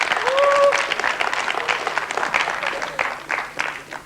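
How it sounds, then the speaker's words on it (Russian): Studio audience applause on a 1997 Russian TV quiz show, a dense burst of clapping that fills the room and gradually thins, with a voice briefly audible over it. "Приветствуем вашими аплодисментами"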